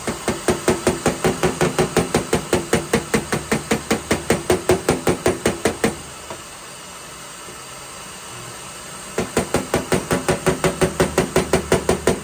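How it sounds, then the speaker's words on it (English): Rapid, steady metallic hammer blows ring out in a long run hammering down a ridge on a BMW quarter panel, stop for a few seconds of hissing background, then resume at the same pace. "I'll stick a weld on this just with a bit of pulling pressure while I hammer that ridge down."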